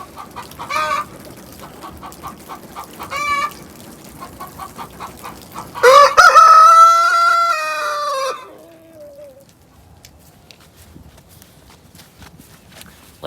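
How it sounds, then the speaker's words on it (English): A homestead rooster crows loudly once, a long drawn-out call close to the microphone, after a stretch of softer clucking and scattered rhythmic footfall-like knocks, then quiet. "So, I think it will be a good gift for Nate and Katie and their new homestead to have a rooster."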